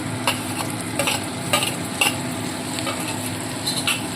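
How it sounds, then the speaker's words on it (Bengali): Garlic, ginger, green chili and onion pastes fry in hot oil for a Bengali boal fish curry, a steady sizzle broken by sharp stirring scrapes of a spoon against the pan about every half second. "প্রথমে দিচ্ছি এখানে রসুন বাটা তারপরে দিচ্ছি আদা বাটা কাঁচা লঙ্কা বাটা আর দিচ্ছি পেঁয়াজ বাটা"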